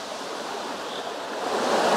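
A forest stream flows down a valley near Fethiye, Turkey, a soft, continuous rush of water that swells slightly toward the end, with no voices.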